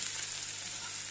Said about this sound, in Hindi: ऑयल में फ्राई करना है।